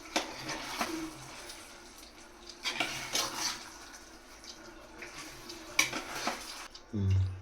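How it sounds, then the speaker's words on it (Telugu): A utensil stirs Thalassery chicken biryani masala in a pan, with scraping and metal clinks against the pot in close, irregular strokes and a louder knock at the end. "ఇది ఒకసారి కలుపుకుందాము."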